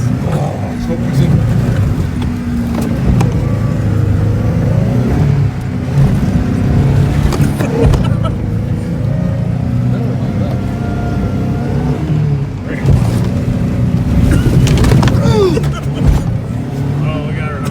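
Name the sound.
truck engine revving while stuck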